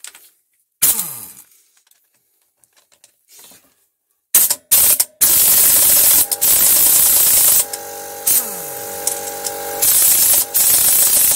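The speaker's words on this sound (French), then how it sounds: "Alors les deux écrous, c'est du 17. Alors, on va commencer par serrer ça." A ratchet tightening 17 mm nuts on a Honda Forza 350 clutch fitted with copper shoes and Malossi springs: loud, harsh bursts of mechanical whirring and clicking, broken by silent pauses, close up.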